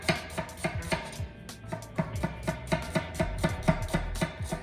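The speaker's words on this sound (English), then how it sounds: "julienne this onion" Rapid, even knife strokes finely julienning an onion on a cutting board, a steady close run of crisp taps with a brief pause partway through, no talking.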